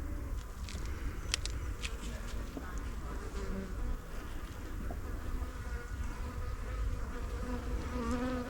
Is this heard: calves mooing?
no